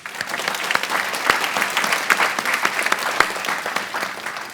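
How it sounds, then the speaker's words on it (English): At a summer celebration for UX design teams and internship graduates, a room breaks into sustained, lively applause, with dense overlapping claps and a few sharp ones standing out close by. "So a huge round of applause for you guys"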